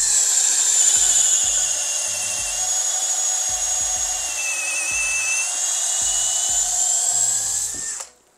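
A FortG brushless drill bores a bit through a wooden log, its high motor whine running steady and loud for about eight seconds with a pitch that wavers slightly, then cuts off.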